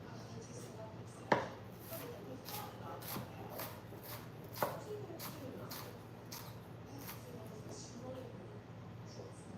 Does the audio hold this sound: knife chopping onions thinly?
yes